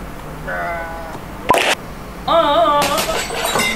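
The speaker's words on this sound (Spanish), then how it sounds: "Estaba tan fuerte el canto que rompió todos los vidrios." Glass shatters with a sharp, bright crash in the middle, surrounded by a loud, high-pitched singing voice before and after.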